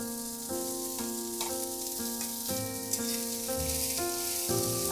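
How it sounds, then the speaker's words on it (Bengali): Sliced onions frying on high heat for vegetable chow mein give a broad, steady sizzle, mostly masked under a louder backing of tonal music that changes chords every half second. "একটু হাই হিটে এটাকে ফ্রাই করতে হবে এবার এর মধ্যে দিয়ে দিচ্ছি আমি পেঁয়াজগুলো"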